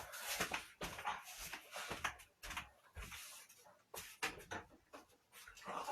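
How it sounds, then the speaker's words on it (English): Several dogs indoors bark in sharp, irregular bursts mixed with whimpers, fairly faint overall, with household knocks in between. "My dogs are going crazy."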